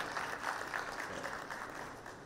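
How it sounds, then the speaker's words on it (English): Brief, fairly soft round of audience applause for panelists and speakers at a water and sanitation conference in Kenya, a dense even clatter of many hands lasting about two seconds. "Another round of applause to the panelists and the speakers."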